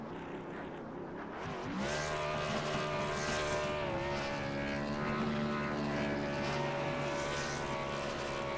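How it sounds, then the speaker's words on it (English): Race cars in a racing video game do burnouts on the front straightaway at Texas, making a loud, sustained engine roar that swells after about two seconds and holds steady with a high whine. "they're all doing burnouts here on the front straightaway"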